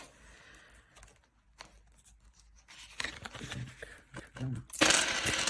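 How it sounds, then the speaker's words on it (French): Loose coins from a household budget envelope are handled and dropped, with scattered quiet clinks early on and a louder burst of jangling metal near the end, up close. "je vais prendre toute la monnaie"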